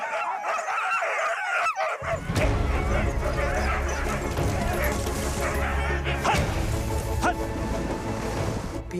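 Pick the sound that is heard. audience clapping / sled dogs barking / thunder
sled dogs barking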